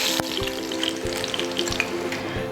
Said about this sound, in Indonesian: Ini kita akan goreng sampai warnanya keemasan.